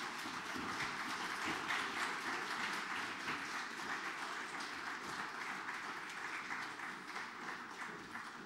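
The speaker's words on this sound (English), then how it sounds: "give a warm round of applause for our speakers" An audience at a conference opening session applauds steadily for the speakers, a dense, sustained wash of clapping that holds at an even level from start to finish without voices.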